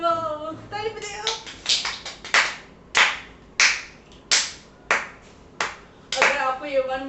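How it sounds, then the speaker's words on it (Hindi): A small group in a room claps hands in a few sharp, separate bursts and single claps, close and fairly loud, with voices shouting between the claps at the end of a one-minute balloon challenge. "चलो ताली बजाओ"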